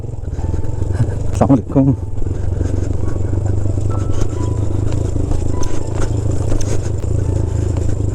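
Motorcycle riding the Rumli off-road track in the Margalla hills, a steady engine drone with clattering and scraping over rough ground, and someone speaking briefly over the noise.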